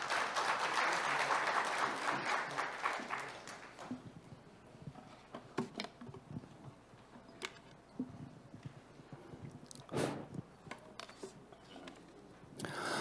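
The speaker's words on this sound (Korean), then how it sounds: "원봉성 과장님을 큰 박수로 모시겠습니다" A seated audience at a Yeongdeungpo district public forum on parking problems claps loudly to welcome a presenter, the applause thinning after about four seconds into scattered claps, rustles and small handling noises.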